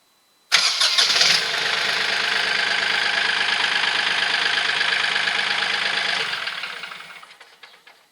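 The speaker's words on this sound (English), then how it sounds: "So I'm gonna start the tractor." A KIOTI CK3510 tractor engine cranks and catches, settling into a loud, steady diesel idle close by, then winds down and fades out over the last couple of seconds.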